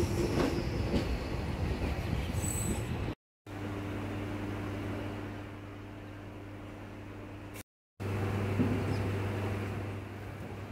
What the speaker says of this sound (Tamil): ராமாபுரம் ஸ்டேஷன்லேருந்து கிளம்பியாச்சுங்க.